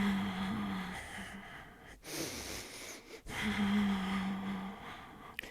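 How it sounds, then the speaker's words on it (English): Steady, audible breaths rise and fall in slow cycles during a Pilates Wunda Chair workout, each close inhale and exhale rushing and hissing, with a faint low tone running beneath. "3 more cycles of breathing here."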